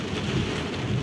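Heavy night rain in Jeddah, a steady dense roar of falling water with low rumbling underneath, continuous and fairly loud, no talking.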